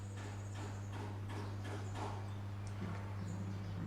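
Racehorse hooves drum on the track in a rapid, rhythmic clip-clop during a turf race sprint, heard at moderate distance over a steady low hum.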